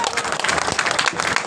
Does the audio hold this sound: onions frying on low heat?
no